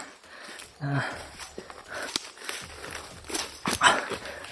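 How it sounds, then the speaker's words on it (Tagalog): Dogs barking a few times at a distance, mixed with footsteps and faint voices in the background. "may mga aso"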